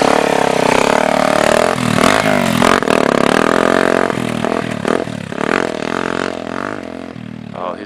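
A Suzuki DRZ 400 dirt bike being ridden and revved after a fork compression adjustment, its engine loud and close, rising and falling in pitch with clattering and scraping mixed in, and no talking.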